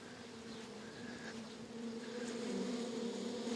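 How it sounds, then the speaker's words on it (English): Bees swarming around a garden hive in a wildlife garden set in an old quarry, a steady, dense buzz that holds throughout and swells slightly toward the end, with no voices. "I got a bee swarm in my hive."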